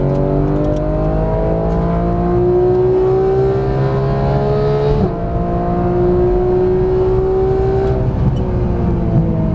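Porsche GT3 race car engine under hard throttle on a track: a loud, close, continuous howl climbing steadily in pitch, a brief dip for a quick gear change midway, then climbing again, with no talking.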